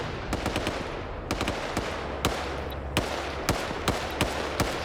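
PKP machine gun fire in a military video game, heard as short sharp bursts repeating at irregular intervals, fairly distant, over a steady background rumble, with no talk.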